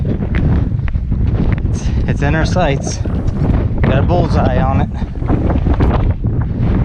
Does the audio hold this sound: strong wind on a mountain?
yes